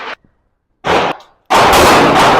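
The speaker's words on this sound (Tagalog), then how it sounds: "Isang putok muna tayo." Loud close gunshots at a practical shooting range: one sharp short blast, then a longer burst, then a heavy sustained roar filling the end with no talk.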